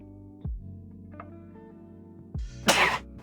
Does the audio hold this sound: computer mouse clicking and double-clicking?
no